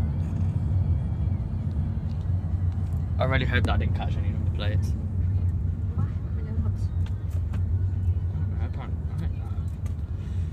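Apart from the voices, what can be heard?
car traffic while stuck in a jam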